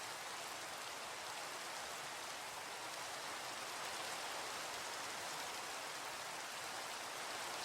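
Steady, even rainfall in the Galactic Chickens video game, a dense hiss of drops that holds at the same level throughout with no voices.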